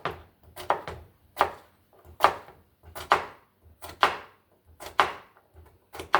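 Food being chopped into small pieces with a knife on a board, a close series of about a dozen sharp, irregular thuds and knocks with brief pauses, no voices.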